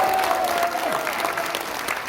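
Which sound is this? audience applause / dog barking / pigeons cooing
audience applause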